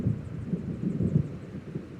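Low, distant thunder of an approaching storm in the video game Alan Wake Remastered, a faint soft rumble that swells and recedes in uneven rolls with no voices.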